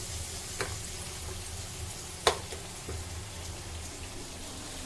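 Rice and chicken with capsicum stirred in a pan of hot oil, a steady low sizzle with a few soft scraping knocks, one sharper clink near the middle, no voices.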